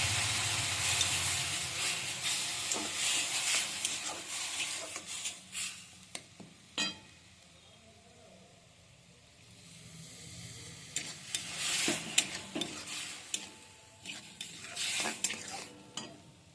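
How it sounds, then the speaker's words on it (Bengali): Milk is stirred in a cooking pot with a spoon scraping and knocking against the sides in uneven strokes, a quiet stretch in the middle, and a soft sizzle beneath. "এই দুধটা আমি একটু একটু করে দিব, নাড়তে থাকবো"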